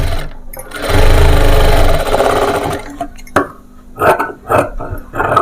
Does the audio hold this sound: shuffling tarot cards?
no